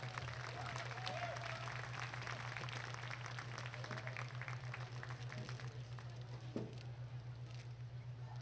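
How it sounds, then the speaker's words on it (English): A crowd at a market goat showmanship event claps in a steady round of applause for young showmen, faint and distant over a constant low electrical hum. "Let's give these guys a big round of applause."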